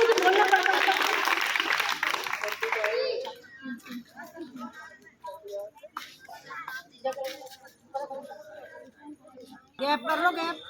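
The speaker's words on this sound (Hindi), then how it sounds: "तो जोरदार तालियों के साथ स्वागत कीजिए" A school audience at a Children's Day play claps to welcome Class 7 students, a loud burst of applause for about three seconds that gives way to children's voices and chatter.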